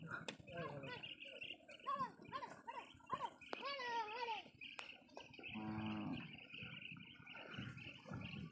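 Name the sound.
cows returning from grazing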